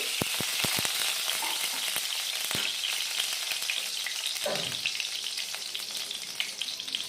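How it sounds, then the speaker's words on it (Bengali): Whole tempering spices sizzle steadily and loudly in hot mustard oil in a pan, with a few sharp crackles and pops early on and faint stirring scrapes, no voices. "ওই তেলে আর একটু তেল দিয়ে দেবো ফোড়ন দিয়ে দেবো একবারে সর্ষের তেল"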